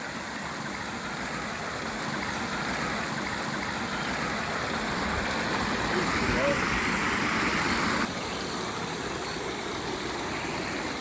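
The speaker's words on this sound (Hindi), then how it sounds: "फिर एक छोटा झरना आ गया।" Steady rushing water of a small waterfall, a continuous broadband hiss that holds level throughout with no distinct events.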